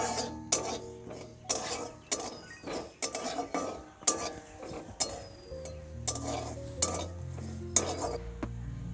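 Fennel seeds and whole cumin, added after coriander seeds, crackle in a pan while a spoon stirs and scrapes against the metal in repeated sharp clinks, close and clear, with no talk.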